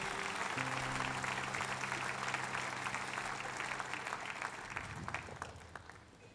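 An audience claps steadily at a Christmas stage show, a dense even patter that fades slightly toward the end, with sustained musical tones beneath.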